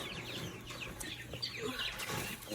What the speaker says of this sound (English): this is one of our Wyandottes, our only Wyandotte